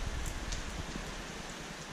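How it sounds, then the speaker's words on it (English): Rain falls steadily outdoors, a soft, even patter and hiss with a few scattered drops, faint and continuous without any talking. "Well, wouldn't you know it, raining again."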